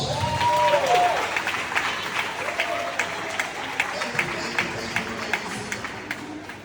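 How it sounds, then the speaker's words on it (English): An audience at a school event for educators applauds after a motivational speech, a broad wash of clapping that starts loud and thins into scattered claps, with some voices mixed in. "Now give yourself a round of applause."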